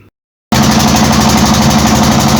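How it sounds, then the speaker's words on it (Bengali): A fishing trawler's engine runs steadily at sea near the Meghna estuary in the Bay of Bengal, a loud, close, continuous mechanical drone that starts abruptly after a brief silence. "মেঘনা নদীর মোহনা বঙ্গোপসাগরের এই অংশ পেরিয়ে আমাদের ট্রলার ছুটে চলছে"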